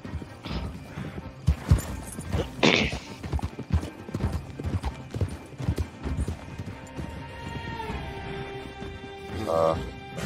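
Horse hooves clatter in a fast, uneven galloping rhythm in a Wild West video game, with a whinny and a brief crash partway through and faint voices mixed in.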